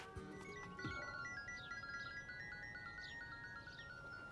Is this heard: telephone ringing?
yes